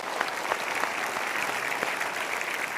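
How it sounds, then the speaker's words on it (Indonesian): Steady applause from a studio audience at a motivational talk show, many hands clapping together at moderate volume, with no voices standing out. "kita berikan tepuk tangan dulu"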